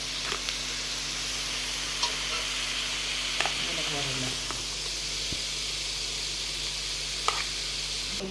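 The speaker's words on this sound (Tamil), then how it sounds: "அதையும் ஒரே நேரத்தில் அதில் போட்டு வதக்கிறோம் காய் வதங்கிக்கிட்டு இருக்கு" Beetroot and other vegetables sauté in a pan with freshly ground masala for sambar: an even, steady sizzle with occasional stirring clicks and scrapes throughout.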